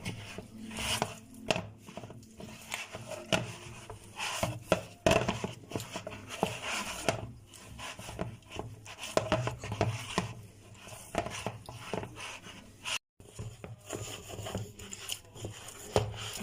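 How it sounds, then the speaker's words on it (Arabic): Hands knead soft dough on a surface, making close, steady rubbing and dull thumping sounds that repeat in an uneven rhythm, with no talk. "تعجني فيها لحد ما تطرى معاكي"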